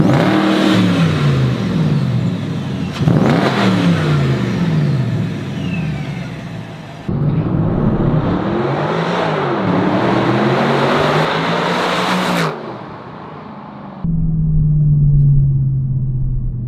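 A supercharged BMW 645 with an ESS G1 charger revving hard during a burnout, loud sustained engine roar with rising and falling pitch sweeps and gear changes, close by, ending in a steadier high drone.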